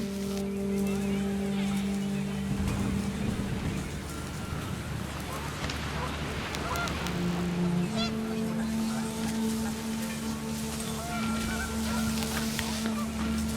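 Panicked geese honk amid rising wind in the video game What Remains of Edith Finch, a dense, continuous wash of layered calls and gusts with tonal game music running beneath throughout.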